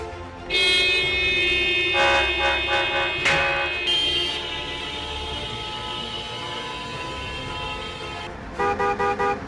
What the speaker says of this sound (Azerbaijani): Siqnalı basanda hamı siqnal verir.